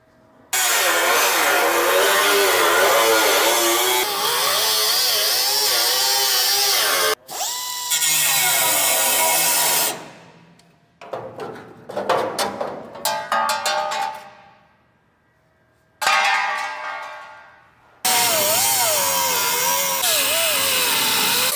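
Metal edge of a 1968 Dodge Charger body panel being ground during restoration, a loud, steady whine in long bursts separated by brief pauses and quieter clattering handling sounds.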